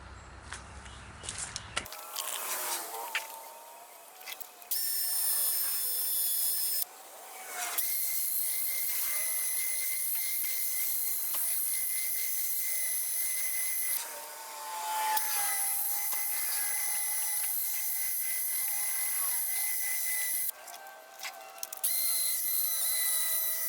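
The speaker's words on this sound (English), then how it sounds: "we're going to use the polishing ball and the headlight plastic polish" Drill spinning a polishing ball with plastic polish against a cloudy plastic headlight, a high whining buzz that runs in long stretches with several brief stops and restarts.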